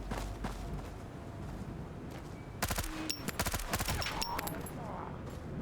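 Bursts of MP5 submachine gun fire in the shooter game Road to Vostok, a few short rapid volleys of sharp shots over a steady background rumble, with talk running throughout.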